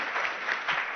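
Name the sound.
audience applause for speaker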